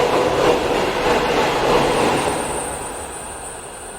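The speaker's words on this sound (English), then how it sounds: "When the Gotthard base tunnel is fully operational, trains will regularly travel through the tunnel at up to" Train travelling at speed through the Gotthard base tunnel, a steady loud broadband rumble and roar with a faint high whine creeping in, fading slightly toward the end.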